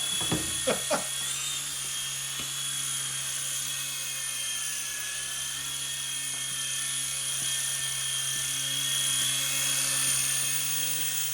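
A T2M Spark MX radio-controlled model helicopter flies outdoors, its high-pitched electric rotor whine steady and fairly loud throughout, with a few brief knocks near the start.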